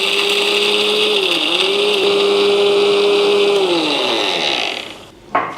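A mixer grinder whirs loudly and steadily for several seconds grinding roasted gram and cashews to powder, its motor pitch dipping briefly, then winds down to a stop near the end.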